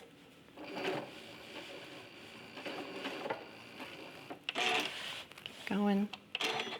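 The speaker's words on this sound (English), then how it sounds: "It's nice to have your machine set so that when you stop sewing, the needle is down." A sewing machine stitches raw edge applique fabric on curves in short bursts of mechanical whirring, pausing between runs while someone speaks close by over it.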